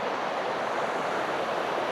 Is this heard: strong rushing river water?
yes